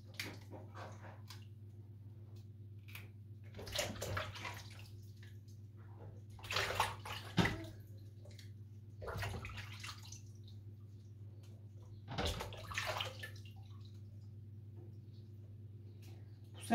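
Fresh strawberries being washed in water, with soft intermittent sloshing and splashing bursts over a steady low hum, fairly quiet and close.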